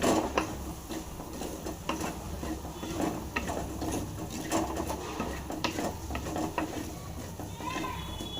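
A gooseberry pickle mixture being mixed in a vessel gives off wet squelching and scraping strokes with occasional clicks, close and moderately quiet over a low background hum, without talk.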